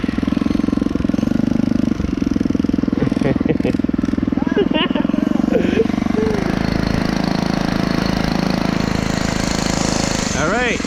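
Phatmoto Rover 2022 motorized bicycle with a 7-speed Shimano gear, its small engine droning steadily and loud while riding off-road, with intermittent squeaks and rattles and faint speech over it.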